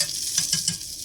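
Tomatoes sizzle and crackle in a hot skillet, a close, steady frying hiss with a few soft stirring scrapes over about a second, no talking.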